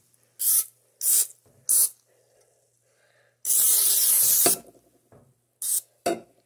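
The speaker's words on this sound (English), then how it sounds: "You gotta spray it on there." Quinoa cooking oil is sprayed from an aerosol can onto an egg pan in a home kitchen. Three short hissing bursts are followed by one long spray and then two more quick puffs, close and crisp with no talk.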